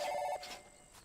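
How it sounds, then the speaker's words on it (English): In the video game American Fugitive, a cell phone rings while a vehicle is being called, a short electronic ring tone that stops after a fraction of a second and leaves faint tonal traces, quiet and without talk. "I'm actually going to use my cell phone and call a vehicle"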